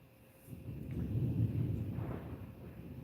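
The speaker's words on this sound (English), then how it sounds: "That's the thundering" A low thunder rumble rolls in during a storm, swelling over the first second and a half and then slowly fading, distant and muffled, with no voices over it.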